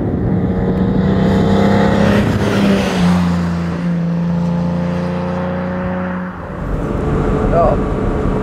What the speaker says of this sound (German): das ist ein originaler 300 SL Flügeltürer hier